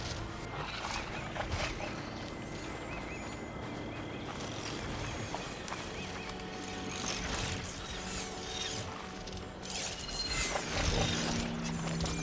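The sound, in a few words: robotic machine creature moving in Horizon Forbidden West video game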